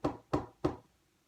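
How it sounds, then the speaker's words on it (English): Three firm knocks on a door, evenly spaced about a third of a second apart, close and distinct, followed by quiet. "there was a knock at the door."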